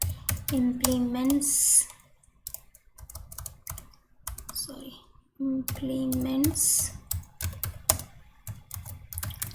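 Java code typed on a computer keyboard: bursts of quick, close key clicks that pause and resume while someone talks over them.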